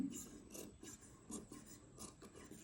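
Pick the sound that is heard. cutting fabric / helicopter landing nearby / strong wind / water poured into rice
cutting fabric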